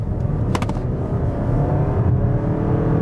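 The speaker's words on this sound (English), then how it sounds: "let's give it some gas going on this on-ramp here" A 2023 Toyota Crown Limited in sport mode accelerates up a highway on-ramp, giving a steady, loud engine drone mixed with road noise that builds slightly over a few seconds.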